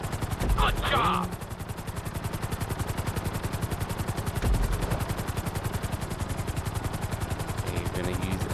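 A helicopter in GTA 5 flies with fast rhythmic rotor chop throughout, loud and close, while a voice talks over it briefly.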